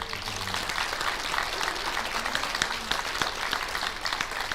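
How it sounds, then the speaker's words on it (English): An audience at a school sports awards assembly applauds steadily with dense, sustained clapping that holds at an even level throughout. "So give another round of applause."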